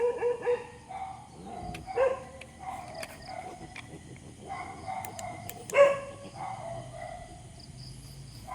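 Several dogs bark in a forest, with sharp, scattered barks and yips at varying distances, some near and loud, others faint, over a quiet background of insects and rustling.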